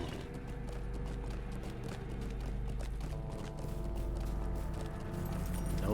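Horse hooves in Lord of the Rings Online, set in Angmar, keep up a steady clip-clop throughout over a dense, continuous game music and ambience bed, with no talk.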